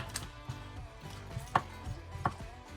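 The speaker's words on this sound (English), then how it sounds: "I'm gonna cut in a half, and with a spoon take the old seeds out" A knife cuts through a poblano pepper on a cutting board, giving several sharp separate chops spaced about half a second apart, close and fairly crisp with no talking.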